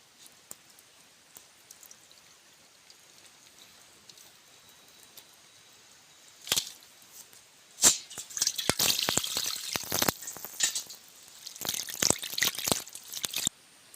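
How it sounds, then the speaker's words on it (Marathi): Country chicken is washed by hand in water, with quiet trickles at first, then bursts of splashing, sloshing and dripping that come close and loud in the second half; no one speaks. "कॅरेट कोंबडा धुवून टाकायचा आहे गावाने छान धुवून टाकायचा कारण याला दोन तीन पाण्याने धुवावं लागते"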